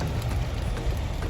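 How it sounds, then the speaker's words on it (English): Rain falling outside a car during a road trip, a steady, dense patter that blends with low road rumble and holds at an even level throughout. "you see it's raining, so we are going to be safe"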